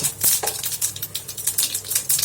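Mustard seeds, cumin and urad dal crackling and popping in a hot pan, a steady dense sizzle of tiny sharp pops, close and continuous with no talking.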